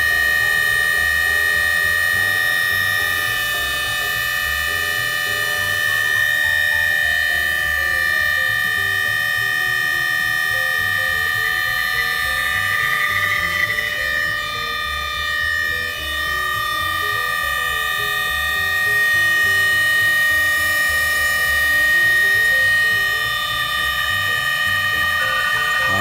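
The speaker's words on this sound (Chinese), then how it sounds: "目前进行的是1分钟全油门的流量测试。" A steady mechanical drone from the fuel distributor of a 1983 Lotus Esprit Turbo running at full throttle on a flow-test rig, with sustained whining tones over a low rumble and faint rising and falling pitch sweeps.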